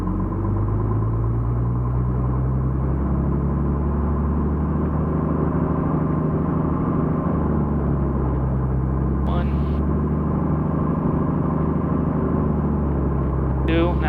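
A Piper Comanche 250's piston engine held at a 1500 RPM run-up, a steady loud droning rumble heard from inside the cabin, with brief faint tones near the end.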